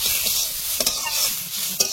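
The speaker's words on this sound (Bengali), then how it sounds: "সামান্য একটু তেল দিয়ে ডালটা ভেজে নেবো" Lentils (dal) frying in a little oil hiss steadily in a pan, with a few sharp stirring scrapes punctuating the sizzle, close and unbroken.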